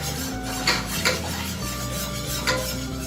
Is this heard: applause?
no